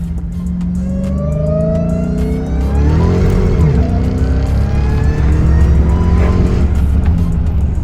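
A rebuilt Dodge Hellcat accelerates hard, its supercharged engine revving up through rising gears, loud and close from inside the car, with brief voices over the roar.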